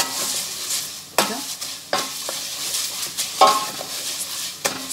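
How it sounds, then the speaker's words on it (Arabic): Chicken pieces frying in hot oil in a pan, a steady sizzle broken by sharp clanks and scrapes as they are stirred and turned, close and fairly loud with no talking. "هفضل بقى اقلب كده لغايه ما تحمر معايا"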